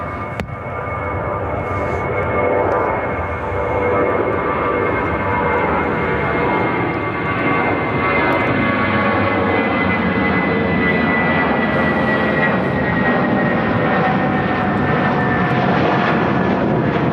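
A United Airlines jet taking off from Chicago O'Hare Airport, a steady loud engine roar with a whining tone that slowly shifts in pitch as it powers along, with no talk over it.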